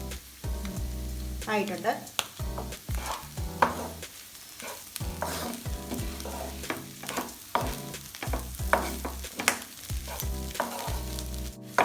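Clam fry sizzles in a pan as curry leaves go in, with repeated spatula scrapes and stirring clatter over a steady frying hiss and a brief spoken remark.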